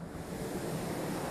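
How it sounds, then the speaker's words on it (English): Water swirling and rushing into a rock formation, a steady broad roar of churning flow with wind-like noise, continuous and fairly close. "look at all that water going through there. It's all going inside the rock formation"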